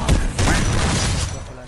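Rapid fusillade of suppressed gunfire from a competitive first-person shooter match, a dense burst of muffled shots and thuds lasting under two seconds.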